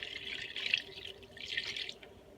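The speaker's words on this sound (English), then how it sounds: "I'm going to add 2 cups of water just because this is a lot of vegetables." Water pours from a kitchen sink tap into a pot of vegetables, a soft splashing stream in two short bursts with a brief dip between them, fairly quiet and close.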